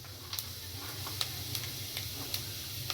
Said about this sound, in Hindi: अब देखिए, 1 छोटे चम्मच में इसमें ज़ीरा डाल रही हूँगी।